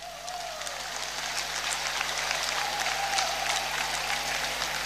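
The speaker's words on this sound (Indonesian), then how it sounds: "kita yang ada dalam ruangan ini tepuk tangan yang meriah untuk mereka dulu" An indoor audience claps warmly at a health polytechnic graduation ceremony in Jayapura, a dense, even wash of many hands that holds steady throughout without voices over it.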